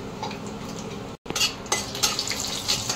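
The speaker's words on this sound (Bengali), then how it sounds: "এবার ওই তেলেই একটা তেজপাতা, একটা শুকনো লঙ্কা, অল্প একটু গোটা জিরে আমরা ফোড়ন দিয়ে দিলাম" Bay leaf, dried chilli and whole cumin crackle as they temper in hot oil, a busy sizzle broken by a brief silence and punctuated by utensil clinks as the spices are stirred.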